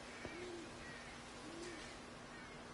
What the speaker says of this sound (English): chirps of birds.